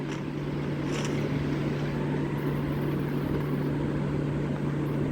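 A vehicle in a shooting video game drives nearby, a constant engine drone with a steady low hum holding throughout at moderate level.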